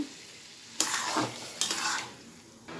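Soaked lentils (dal) tipped into a hot frying pan of spiced sautéing mixture, giving two loud bursts of sizzling and stirring with a quieter fry simmering between them.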